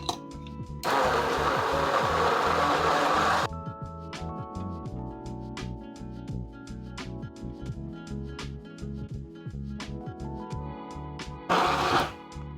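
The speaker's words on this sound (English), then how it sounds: "And now I'm going to blend it all up with my stick blender." A stick blender whirs loudly through taro paste in a burst of about three seconds, then stops; clanks and scraping follow, and the blender briefly runs again near the end.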